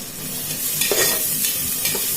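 Ginger and garlic paste sizzle and fry in a pan while being stirred for an Assamese mutton curry, a steady close hiss with a few louder scraping stirs.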